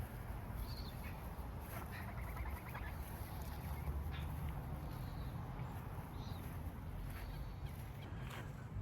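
Geese honk in an early-morning yard, scattered nasal calls over a dense, noisy background of low rumble and clatter. The calls are moderately distant and faint, with several brief honks spread through the stretch.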